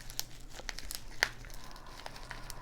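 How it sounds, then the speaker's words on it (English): A pair of scissors snips and crinkles open the packaging of an Edelstein Pelikan bottled ink, giving a few sharp crisp cuts and plastic crackles, close up and brief, with no voices. "Grab a pair of scissors here."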